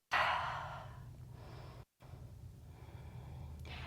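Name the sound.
exhaling breath during yoga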